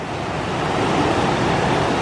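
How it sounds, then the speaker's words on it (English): A rushing river at a hiking-trail crossing gives off a loud, unbroken roar of churning water, dense and steady throughout with no voices over it. "Well, I think we've come to our river crossing."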